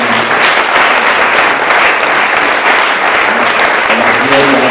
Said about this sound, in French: On va les acclamer, tous les techniciens.